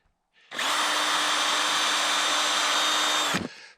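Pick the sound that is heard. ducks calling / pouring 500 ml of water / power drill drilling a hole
power drill drilling a hole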